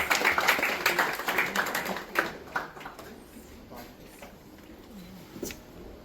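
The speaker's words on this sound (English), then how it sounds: "let's have a big round of applause for our chief guest." Audience claps for the chief guest at the launch of a multi-speciality hospital for women, a fairly loud burst that thins after about two seconds into scattered claps and faint voices.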